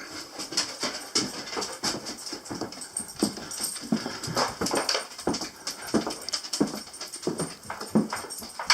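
A dog whimpers and whines close by in short, repeated bursts, with some shuffling movement between the cries.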